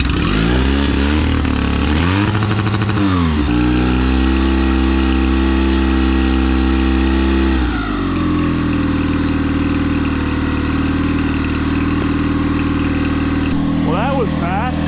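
A knockoff Yamaha outboard motor cranks briefly, fires and settles into a steady loud idle, with its pitch shifting slightly partway through before running evenly up close.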